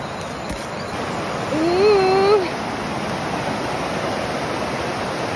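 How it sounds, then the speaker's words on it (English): Steady broadband rush of river water flowing near an entry point, continuous and moderately loud throughout, with a brief tonal voice-like sound rising over it midway. "This is the closest entry point to the river."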